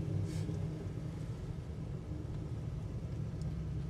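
A 1966 Pontiac GTO engine idles with a deep, steady rumble. It sounds moderately close and low in volume, with no talking.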